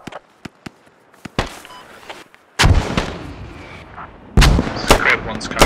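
Artillery fire in the video game Squad, with sharp distant cracks at first, then several loud, heavy booms with rumbling tails, and some background chatter.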